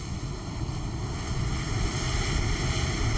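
A United Airlines Embraer jet taxiing in Microsoft Flight Simulator at Rhode Island airport gives a steady, loud engine drone with a low rumble and faint high whine, continuous and unchanging throughout.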